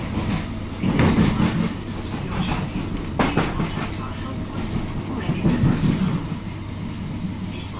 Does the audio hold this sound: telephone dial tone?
no